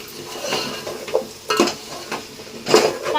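Vegetables tipped into a pot of chicken sambar: intermittent metallic clinks, scrapes and stirring clatter against cookware, with a few sharper knocks among softer rustling.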